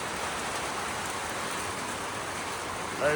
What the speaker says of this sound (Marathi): पाऊस यायला लागला हो.